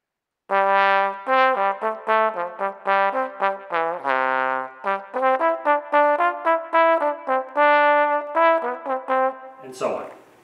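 An alto trombone plays a quick, bouncing Bach melody transposed up a fourth, detached notes in steady rhythm, solo and close, ending with a short noisy clatter.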